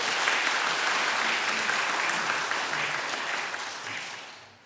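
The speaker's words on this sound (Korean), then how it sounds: "우리 박수 한번 함께 할게요" A church congregation at a Sunday worship service claps together to send off a team, a dense, even round of applause that gradually fades out toward the end.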